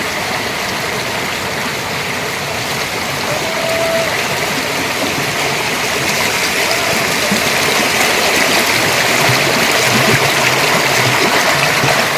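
The waterfall at Cheerattamala roars as a continuous loud, broadband rush of falling water that holds steady throughout.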